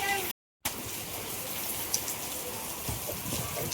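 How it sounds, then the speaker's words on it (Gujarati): Heavy monsoon downpour pounding down in a loud, continuous hiss close by, broken by a brief dropout near the start, with faint voices underneath. "કેટલો વરસાદ ચાલુ છે, બહુ ચાલુ છે."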